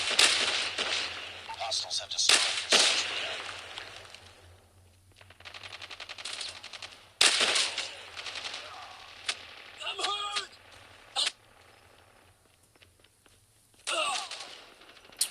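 K47 rifle fire in a video game: long automatic bursts crackle loudly in several separate volleys with brief pauses between them, and a few sharp single shots stand out near the end.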